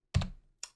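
A couple of quick computer keyboard keystrokes, close and crisp, with a short gap between them in otherwise quiet surroundings.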